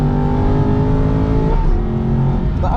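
An Aston Martin V8 Vantage with 430 horsepower, Öhlins TTX suspension and Yokohama A052 tyres, roaring hard on an onboard Nürburgring lap, a loud sustained V8 drone that shifts pitch as revs change, heard from inside the car.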